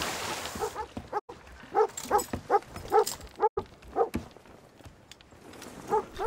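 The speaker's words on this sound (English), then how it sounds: "Yo, whose dog is barking, yo?" A dog barks repeatedly in short, evenly spaced bursts, fairly close and prominent, with no talk over it, heard during a PvP gaming session.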